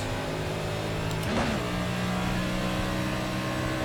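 A race car in the iRacing simulator running at speed with a steady, loud engine drone, a brief pitch sweep as the car gets loose in a turn, then the engine settling back into a sustained tone.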